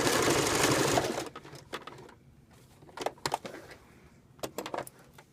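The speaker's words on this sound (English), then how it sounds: "So we come over here to the sewing machine, and I just make sure that I sew it back and forth." A sewing machine stitching fabric for a DIY neck cooler runs in a loud, fast buzzing burst for about a second, then stops, followed by quieter clicks and handling knocks.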